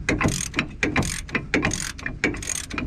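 Ratchet undoing a brake caliper bolt on a Ford Fiesta ST 150: loud, close, rapid clicking of the pawl in repeated back-and-forth strokes, several bursts in quick succession.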